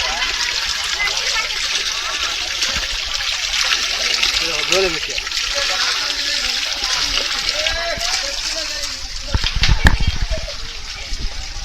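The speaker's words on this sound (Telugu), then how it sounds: "మంచి ఫ్రెష్ నీరు" Fresh water flowing and splashing steadily at Chilakalagutta, the sacred Sammakka site near Medaram during the jatara, a continuous broad rush close by with people, including children, talking over it.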